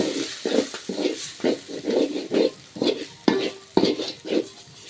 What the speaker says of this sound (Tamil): இதையும் நல்லா எண்ணெயிலே வறுத்துக்கலாம்